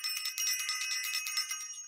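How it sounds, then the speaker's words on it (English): A small bell rings repeatedly in a fast tinkling trill, bright and metallic with sustained overlapping tones, close and alone without speech. "the other thing that I have to ring the bell for"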